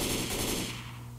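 A rapid burst of M16 rifle fire in the zombie game Left 4 Dead 2, loud and dense automatic shots close up, trailing off after about a second.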